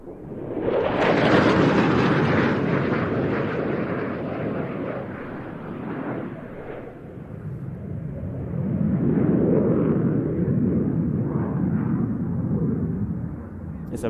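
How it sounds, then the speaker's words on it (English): A Danish Air Force F-16 roars past on a fast pass at an air show, a loud, sustained jet rumble that swells, eases and builds again over fourteen seconds. "Look at the F-16's turn of speed with a fast pass"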